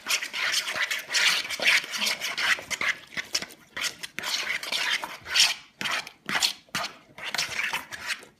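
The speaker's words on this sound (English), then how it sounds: "Let's stir it around and see what it looks like." A spoon stirs potato salad dressing in a bowl, making repeated scraping, rubbing strokes in an uneven rhythm, close and fairly loud, with short pauses between bursts and no talking.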